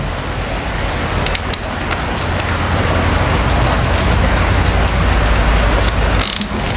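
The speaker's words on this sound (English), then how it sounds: "Getting rained on a little here." Light rain patters steadily outdoors over a small garden where a wooden raised bed is being built, a dense even hiss with scattered drop taps and a low rumble like distant traffic.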